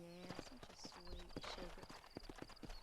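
Horse hooves in Red Dead Redemption clip-clop in a steady, quick rhythm, fairly faint and close, with a quiet voice murmuring underneath.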